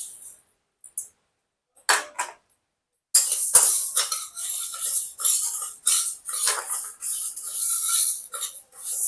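Mung dal dry-roasts in a pan and is stirred, starting with a few scattered scrapes, then turning into continuous gritty rattling and scraping of the grains against the metal, fairly close.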